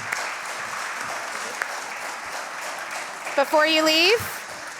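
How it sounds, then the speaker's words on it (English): Audience applause fills a candidates forum room for the office seekers, a steady wash of many hands clapping at moderate volume before a voice begins speaking near the end. "Now is a good time for a round of applause for all of the candidates."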